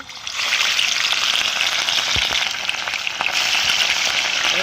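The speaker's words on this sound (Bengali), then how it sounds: "তো আমি মাছগুলো ভেজে নিচ্ছি।" Pieces of katla fish, rubbed with salt and turmeric, fry in hot oil in a heated pan, giving a steady, close, moderately loud sizzle with scattered pops and crackles throughout.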